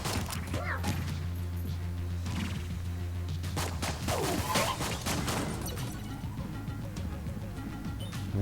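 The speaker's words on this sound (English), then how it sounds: "Go ahead and run this gun out of ammo." Gunfire from the Enter the Gungeon video game, a series of sharp repeated shots and clattering impacts over a looping game soundtrack, with a voice speaking intermittently.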